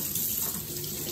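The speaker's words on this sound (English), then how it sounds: "You have to rinse this off with water." Running water pours steadily from a faucet over nail tools being rinsed at a sink, a continuous close splashing hiss with no talking.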